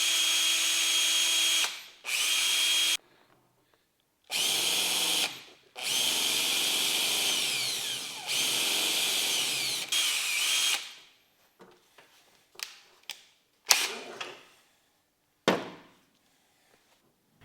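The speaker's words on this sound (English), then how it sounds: "when I put the end of the cable in a drill" A power drill spins a snapped-style square-cut speedometer cable from an Alfa, long loud whirring runs that start and stop, then shorter scattered bursts and clicks near the end.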